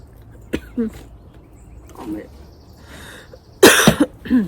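A sharp cough close to the mic, followed by a hoarse throat-clearing cough, with brief murmured speech between them.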